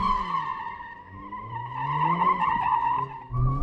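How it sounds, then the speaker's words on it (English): A 421-horsepower Mercedes-AMG A45 S slides sideways through a corner, its tires emitting a loud, sustained squeal over the straining engine, with no talking. "you actually turn more into the corner to make it skid"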